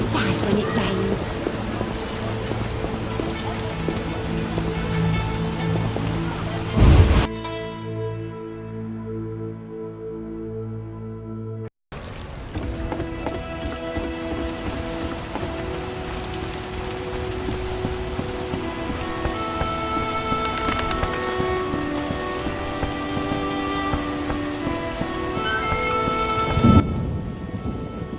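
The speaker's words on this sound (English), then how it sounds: "How sad when it rains." Heavy rain pours steadily in The Witcher, with rolling thunder swelling and cracking loudly at intervals and a brief sharp break partway through; no talk is heard.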